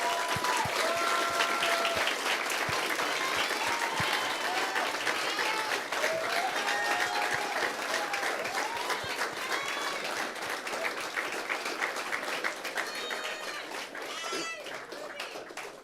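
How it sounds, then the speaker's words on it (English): Sustained audience applause with cheering and whoops as the women's finalists come up on stage at an awards ceremony, loud and dense throughout, easing slightly toward the end. "Please give them a big round of applause as they come up and join us on stage"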